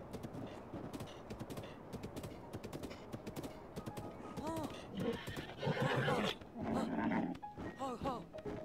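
Horses in The Legend of Zelda: Breath of the Wild whinny repeatedly over a steady patter of hooves, the neighs rising and falling in several loud bursts toward the end.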